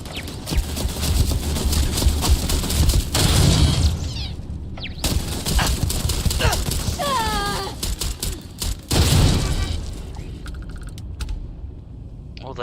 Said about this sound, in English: All that damage is from the turrets.